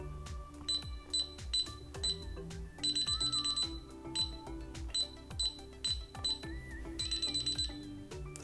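A DSC Power Series alarm keypad beeps while a code is entered: a quick run of short, bright electronic beeps with a few longer held tones, close and clear over a low background hum, with no talking.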